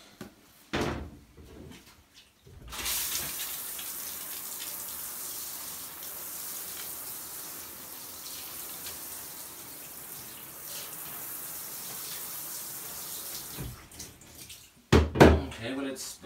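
Tap water runs steadily for about eleven seconds to rinse off a Hurricane spin scrubber in a white bathroom, a continuous broadband hiss, with brief knocks and handling sounds before and after.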